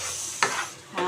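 Colocasia (chama dumpa) fry sizzles steadily in a pan, a close, continuous crackle with two brief scrapes of a spatula.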